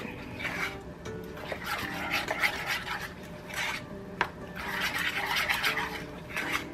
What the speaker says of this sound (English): We're also going to add our flour, salt, baking soda, and cinnamon, and just keep mixing that all up